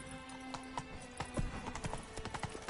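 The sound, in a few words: horse galloping, from the video game Witcher 3: Blood and Wine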